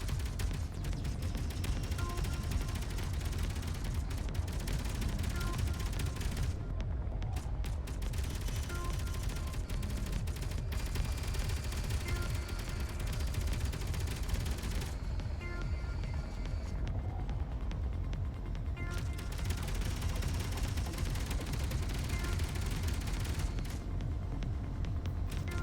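Enemy guns fire in a Space Engineers game, a dense, continuous barrage of rapid shots and booming impacts that stays steady and moderately loud throughout, with no talking.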